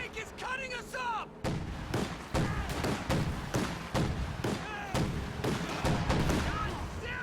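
Anti-tank guns and tanks firing in a World War II strategy game, a steady run of heavy booming shots and thuds, some close and loud, others farther off, over constant battle noise with chirpy effects early on.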